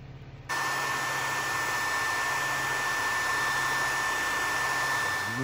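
A disc sander switches on after a brief quiet moment and runs steadily, flattening a file guide for knife making, a close, even electric motor whine with a high tonal hum and constant whooshing hiss throughout, with no talk.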